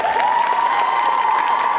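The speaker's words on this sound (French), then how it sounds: "je pense qu'on peut l'applaudir," Crowd applauding and cheering a cosplayer at a Japan Party 2023 cosplay contest, a dense, steady wash of clapping and shouts that holds evenly for the whole short stretch.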